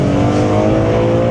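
BMW E46 M3 straight-six engine revving up close, a loud, rich throaty growl rising briefly under a feathered throttle.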